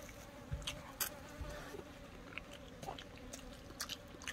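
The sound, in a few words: flies buzzing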